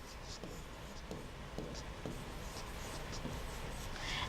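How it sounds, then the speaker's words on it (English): A soft pen draws on the glass of an interactive flat panel smart whiteboard, giving a continuous light scratching with small tapping strokes, close and steady over faint room noise. "let's choose soft pen to write something"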